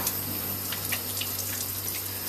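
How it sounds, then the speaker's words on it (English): Glass jars are rinsed under a running tap after soaking in soapy water, a steady close hiss of flowing water with faint splashes and no voices. "once we've left our jars for a little while soaking water, we just rinse them down."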